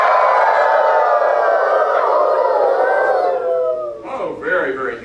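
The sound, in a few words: children imitating dog howl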